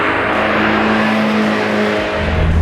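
A Mazda MX-5 Miata NC running at a rich cold-start idle gives a loud, steady engine drone with a strong hum that holds without a break.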